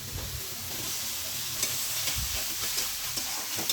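Onions go into a spiced fish curry paste with Kashmiri chilli powder for a Bengali snakehead fish curry with new potatoes, frying in steady close sizzle with soft stirring scrapes throughout.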